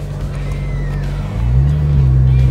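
A Porsche 911 GT3 RS with the Weissach package and Manthey Racing kit, running without a petrol particulate filter, drives on a track with a loud, steady engine drone that rises in pitch and volume partway through.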